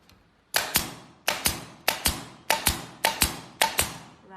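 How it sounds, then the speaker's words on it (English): Woodpecker N7116S pneumatic upholstery staple gun firing in continuous mode: about nine sharp, loud double-cracked shots in a steady, evenly spaced rhythm after a brief quiet start. "I release the valve plate and the staple gun is in the continuous mode"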